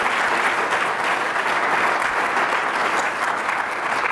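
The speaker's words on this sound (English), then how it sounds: "So a round of applause for those sponsors." Audience applause for event sponsors at a talk hosted by the World Affairs Council of San Antonio, a dense, steady roar of many hands clapping throughout, with no voices over it.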